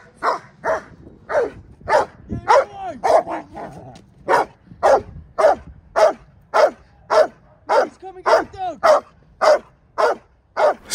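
A police dog barks steadily and rhythmically during a hold-and-bark apprehension drill on a suspect hidden under a car, loud sharp barks repeating about twice a second with brief whines between, no talk over it.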